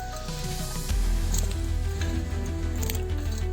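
Eggplants being washed by hand in water in a village kitchen, with steady sloshing, squishing and splashing over a low rumble throughout.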